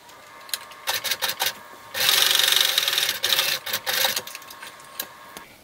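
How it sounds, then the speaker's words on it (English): A sewing machine tacks a shirt's seam allowance in short stitching bursts, then one longer steady run of rapid needle clatter, close and clear with no talk. "So that's eight places that I'm tacking the seam allowance."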